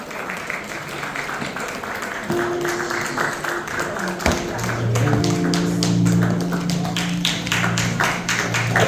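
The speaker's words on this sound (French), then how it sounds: "On va continuer à applaudir pour nous." A church congregation claps at an anniversary service, the sharp claps running on steadily and then joined by sustained organ or keyboard chords and voices singing over the applause.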